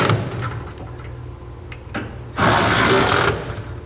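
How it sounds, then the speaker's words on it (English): Bolts tightened under a truck with a 19mm socket, a rapid buzzing run of a power ratchet or impact driver, preceded by lighter clicking and rattling of the tool, close and fairly loud. "Underneath the truck, we can tighten up or snug up all the bolts here."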